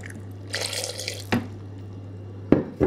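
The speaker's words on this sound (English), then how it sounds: "So I'm just going to put a bit of water in there and then I'll mix that up." Water poured into a container while making a thick green smoothie, heard as a few short splashing pours and trickles over a steady low hum, close and fairly quiet.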